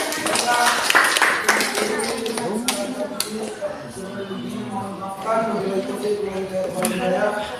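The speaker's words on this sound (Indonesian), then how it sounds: "Berikan aplaus sama temannya." A group in a classroom or training session applauds as presenters go back to their seats: many hands clap together in a lively, uneven patter, close and steady, while people talk over it.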